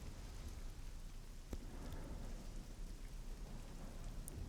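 Steady rain with rumbling thunder on a stormy map in Call of Duty 4: Modern Warfare Remastered, a continuous hiss with a low rolling rumble, faint and constant.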